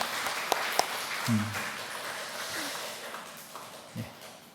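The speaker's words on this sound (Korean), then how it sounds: "우리 격려의 박수 한번 다 함께 해주시기 바랍니다" Church congregation at a Sunday service applauding to encourage a young man, the eldest son, who is about to leave for army training camp; the clapping is faint and diffuse, with a couple of sharper knocks and low murmurs.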